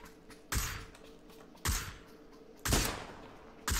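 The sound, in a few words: gunshots at a buggy in video game PUBG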